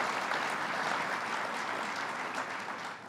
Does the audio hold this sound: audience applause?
yes